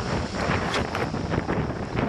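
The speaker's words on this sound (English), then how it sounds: "Too bad it's so windy" Strong wind buffets an outdoor farm hill-climb course, rushing and roaring steadily across the microphone for a couple of seconds without any voices.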